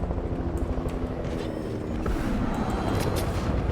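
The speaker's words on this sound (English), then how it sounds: "That's a copter. A helicopter." A helicopter in a shooter video game rumbles and whirs with a steady low mechanical drone that swells slightly louder in the second half, heard alone without talk.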